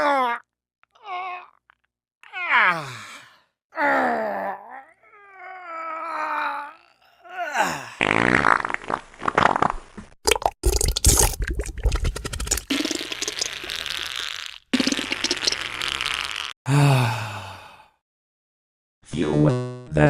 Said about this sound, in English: This is how the pooping and farting sound effect sounds like.